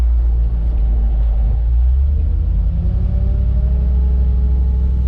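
A 1979 Ford F800 truck engine rumbles loud and close from inside the cab as it pulls out of a shop, a deep steady drone with engine tone rising slightly as the truck gets under way.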